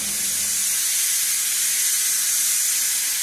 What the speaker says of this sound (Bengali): তা আমি এখানে প্রেসার কুকারে করতেছি।